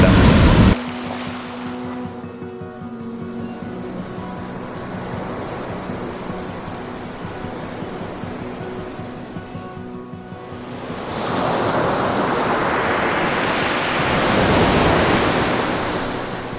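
Sea waves at a beach campground in San Narciso, Zambales, at night, a continuous roar of surf with a rising rush as a wave breaks near the end, plus some wind against the microphone.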